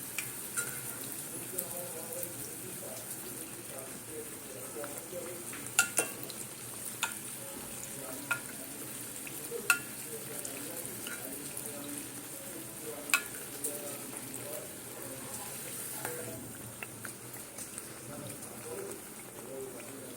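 Layered Dhakai paratha frying in a pan as oil is spooned over it continuously, a steady close sizzle running throughout with scattered sharp ticks and scrapes of a utensil.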